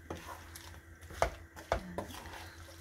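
Shrimp stirred in a butter and garlic mixture in a pan over low heat: quiet scraping, a few distinct clinks of utensil against pan and a soft sizzle underneath.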